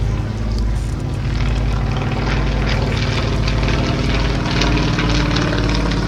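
A Yakovlev Yak-50 aerobatic plane with a Vedeniev M-14 radial engine of 360 to 450 horsepower drones loudly and steadily overhead at an air show, its propeller roar continuous throughout.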